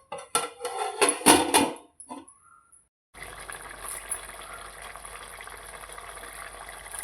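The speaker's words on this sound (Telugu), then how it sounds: "మూత పెట్టేస్తున్నాను." A metal lid clatters and clinks onto a cooking pot of crab curry in a few close, sharp knocks. A brief pause follows, then a steady soft hiss of the curry simmering under the lid.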